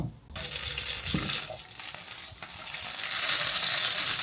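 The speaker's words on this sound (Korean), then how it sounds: "잘 달궈진 프라이팬에 버터는 요만큼 녹여줍니다" Butter melts in a well-heated frying pan for Dubai chewy cookies, giving a steady broadband sizzle that starts soft and swells louder and brighter toward the end, with no talk.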